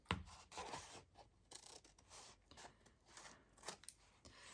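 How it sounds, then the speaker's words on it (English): Scissors cut a corner off a paper library pocket, a close, very quiet run of crisp snipping and rustling paper strokes in an uneven rhythm. "So I need to cut out this little corner here."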